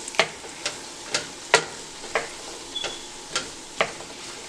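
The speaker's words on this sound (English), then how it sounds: "I'll saute this up" Beef liver sautés in a hot pan with a steady low sizzle, broken by about nine sharp scraping stirs at roughly half-second intervals, close and moderately loud, with no one talking.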